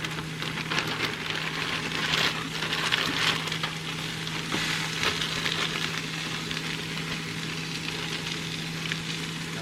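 A one-pound bag of coleslaw mix, with shredded green and purple cabbage and carrot, fries with mushrooms and onions in a pan for a low-carb van-life meal, giving a loud, steady, close sizzle throughout with faint stirring and no talking.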